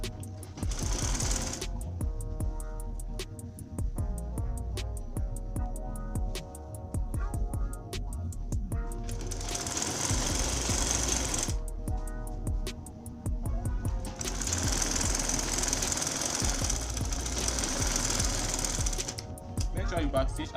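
A sewing machine stitching fabric for a senator top runs in several long bursts with a rapid, even needle clatter over a motor hum, and pauses between the runs.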